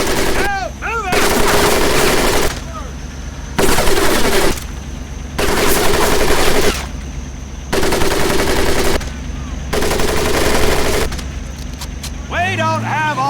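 Sustained machine-gun fire over a boot camp crawl course in Medal of Honor: Pacific Assault, loud rapid bursts in repeated blocks of a second or two separated by short gaps, with shouted voices at moments.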